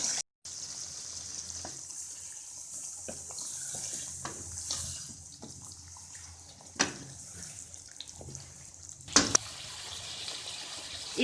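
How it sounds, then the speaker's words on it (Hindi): Stock and water poured from a vessel into a pot of potato and meat curry, a steady splashing trickle running for several seconds with a few clinks of utensils near the end, close and alone. "यखनी डालेंगे और थोड़ा पानी भी डालेंगे।"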